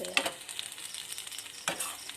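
Dried fish frying in a pan: faint sizzling with light scraping and stirring sounds, a couple of sharper clicks, quiet and close.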